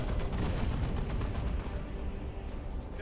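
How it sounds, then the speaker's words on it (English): Incoming artillery mortar shell in a Dawn of War 2 3v3 match, a dense rumbling barrage of booming impacts, loud and sustained, fading slightly toward the end. "There is the artillery mortar shell coming in"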